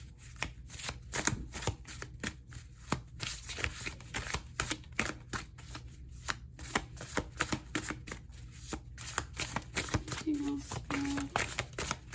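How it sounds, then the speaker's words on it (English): Repeated crisp riffling and slapping of tarot cards being shuffled close by, in bursts across the whole stretch, with a brief faint tone near the end. "So I'm going to give these a good few shuffles here,"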